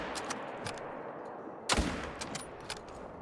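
A single sharp rifle shot from the hunting game Call of the Wild cracks out midway, with a short rumbling tail, over faint ambient background and a few small ticks.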